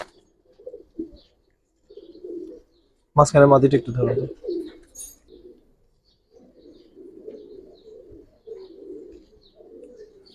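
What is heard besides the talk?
pigeons cooing (Giribaz pigeons)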